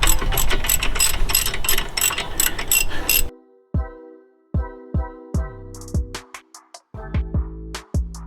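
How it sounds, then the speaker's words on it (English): A ratchet wrench loosening bolts on a Mazda 3 brake assembly: a fast, loud clicking run for about three seconds, then separate short ratcheting bursts and metallic clicks with pauses between them, close up and with no talking. "And take the rest out with a ratchet."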